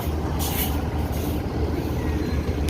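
An NPM bus pulls into Balai Solok terminal with a loud, steady diesel rumble and a hissing air brake release near the start.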